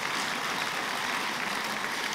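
An audience at a university social evening in 2016 applauds, a dense, steady wash of clapping that continues without a break through the short stretch.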